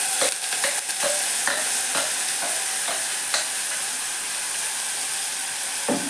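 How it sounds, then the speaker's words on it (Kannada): Ground spice paste with curry leaves frying in a pan for a North Karnataka peanut curry, a continuous close sizzle with repeated scraping stirs, alone with no talk. "ಇದನ್ನು ಮತ್ತೆ ಸ್ವಲ್ಪ ನೀವು ಫ್ರೈ ಮಾಡ್ಕೋಬೇಕಾಗತ್ತೆ"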